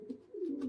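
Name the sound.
pigeon cooing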